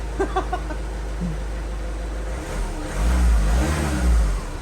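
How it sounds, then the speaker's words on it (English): A Citroen C4 with an immobiliser fault has its key turned, and the engine cranks briefly and catches, rising into a close revving run after a few quiet clicks and faint sounds. "put your key in, turn your key, and it should start"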